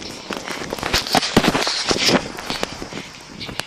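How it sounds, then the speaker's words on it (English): Fireworks go off at night in quick, irregular bursts of sharp crackling pops, loud and fairly close, overlapping into a dense rattling barrage. "You'll be able to record our fireworks."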